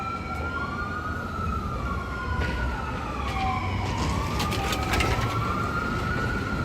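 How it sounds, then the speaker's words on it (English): An ambulance siren wails on a New York City street, with two overlapping sweeping tones rising and falling continuously, loud and close above steady traffic noise. "Sound like they got two sirens on that machine."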